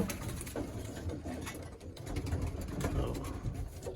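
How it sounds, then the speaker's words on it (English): Racing pigeons coo in a loft, with low, rolling throaty calls repeating close by over a steady background hum, and no one speaking. "some of the colored birds in the loft"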